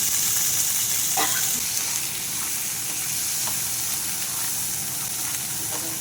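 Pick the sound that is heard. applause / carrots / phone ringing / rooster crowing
carrots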